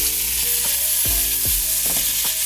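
Onion and garlic fry loudly in a pan, a steady close sizzle with a few scraping stirs as the meat-patty sauce base cooks.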